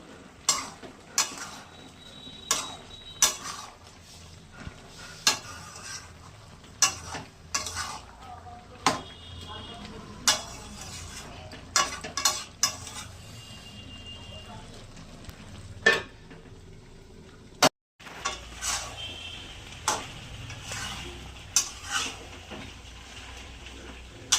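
A spatula scrapes and taps a pan over and over while spinach cooks with katla fish oil, the sharp stirring strokes landing at an irregular rhythm over a soft background sizzle, close and clear with no talking.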